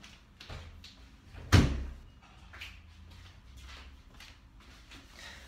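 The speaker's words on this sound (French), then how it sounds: "la porte elle arrête pas de bouger, là ça fait du bruit" A door that keeps moving in the draft bangs once, loud and close, then settles into faint rattles and shifting knocks in a quiet indoor room.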